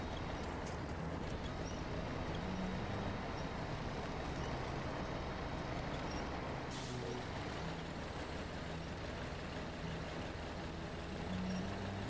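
Truck air handbrake engaging in SnowRunner on hard mode, heard as a sharp pneumatic hiss over a steady, loud engine rumble that runs throughout, with no talk.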